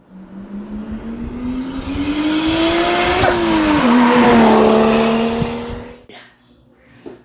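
A turbocharged Lexus IS300 built as a street fighter revs and slides with a rising engine whine and loud tire squeal that swells for several seconds, then cuts off abruptly.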